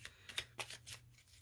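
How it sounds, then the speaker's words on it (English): A deck of tarot cards is shuffled up close, several quick riffling bursts of crisp paper flutter, faint and alone, with a low steady hum underneath. "we're going to just shuffle, shuffle, shuffle and see what ends up on the bottom of the deck"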